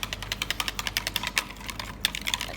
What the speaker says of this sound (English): I'm gonna whisk it, and we're just gonna mix everything together